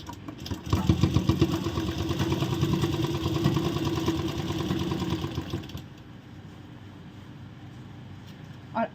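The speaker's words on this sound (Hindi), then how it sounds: "अब सेम इसी तरह हम चारों तरफ इस पे सिलाई लगाएंगे।" A sewing machine stitches a ladies' palazzo pant, a fast rapid whirring run of needle strokes for about five seconds, close and fairly loud, then it stops and a quieter pause follows.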